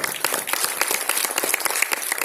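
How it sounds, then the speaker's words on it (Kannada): Enthusiastic applause from an audience at a 50-year celebration event for film director S. V. Rajendra Singh Babu, dense clapping that stays loud and steady throughout. "ದೊಡ್ಡ ಚಪ್ಪಾಳೆ"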